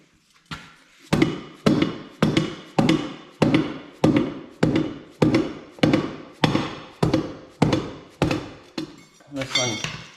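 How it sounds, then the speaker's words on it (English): Steady rhythmic hammer blows, about a dozen sharp metallic strikes roughly every 0.7 seconds, as a soapy tractor tire is worked onto its rim on a John Deere 316 snow blower tractor front wheel, close and loud with no talk. "Sometimes you can just hammer them in if you work your way around."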